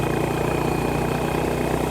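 A Honda GB350S motorcycle running at full throttle in fifth gear on an expressway gives a steady, dense engine drone mixed with wind rush, loud and constant throughout, with no speech.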